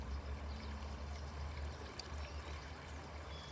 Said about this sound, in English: for listening to the stream and the song of the birds